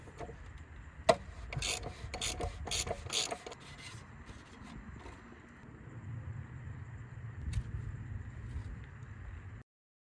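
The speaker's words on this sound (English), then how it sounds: "use a size 36 hex socket to undo the oil filter housing" A size 36 hex socket loosens the oil filter housing on a BMW F07 530d GT, giving soft, irregular scraping and ratcheting clicks up close, then a low steady hum toward the end.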